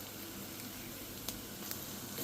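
Onion and masala powder fry in a pan while being stirred for an egg curry, giving a steady close hiss of sizzling with a couple of soft clicks from the spoon.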